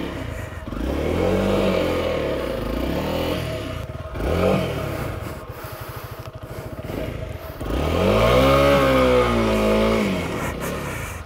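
Honda CRF300L dual sport motorcycle riding through very loose sand, engine rising and falling with throttle blips, rough clattering and scraping from the terrain, loud and close throughout.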